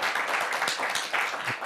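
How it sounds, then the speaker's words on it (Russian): Circus audience applause in Gomel, a dense, steady wash of clapping filling the hall at close range for under two seconds, with no clear talk over it. "эти аплодисменты"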